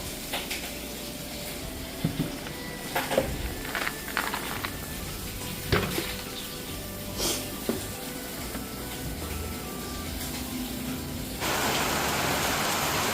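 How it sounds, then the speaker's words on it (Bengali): Heavy rain falls steadily with a dense hiss, broken by scattered knocks and clatters nearby. The downpour suddenly swells louder near the end. "বৃষ্টি শুরু হয়ে গেছে, দেখো কত জোরে জোরে বৃষ্টি পড়ছে।"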